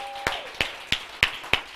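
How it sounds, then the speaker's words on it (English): A church congregation gives young people a hand: five sharp, evenly spaced claps at moderate volume, not very dense, with faint background murmur. "Give these young people a hand clap."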